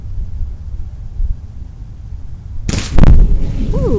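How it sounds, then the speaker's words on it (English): An airgun is fired at an aerosol can set over a fire, producing a sudden loud blast and burst of noise after quiet outdoor background rumble, with the fiery roar continuing afterward. "this is another shot at causing an explosion with an aerosol can and a gun over a fire"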